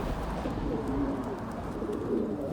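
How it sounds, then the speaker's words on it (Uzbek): A pigeon with a strong eye ring coos close by, giving soft low rolling calls twice in quick succession over a steady outdoor murmur. "Mana shu kaptar."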